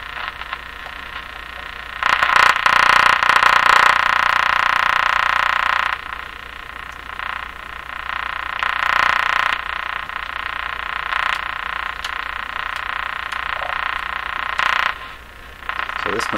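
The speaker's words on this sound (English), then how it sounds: "Buzzing. That's probably coming from inside the radio." A steady electrical buzz comes from inside a Canadian General Electric JK-53 radio, continuous and fairly loud, swelling and dipping in intensity over time.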